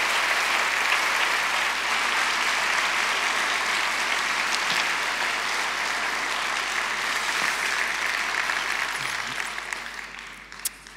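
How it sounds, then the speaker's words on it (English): A conference audience at a women, peace and security event applauds its ambassadors with steady, sustained clapping that fills the room, then thins and fades near the end. "let's give a massive round of applause to our conference ambassadors"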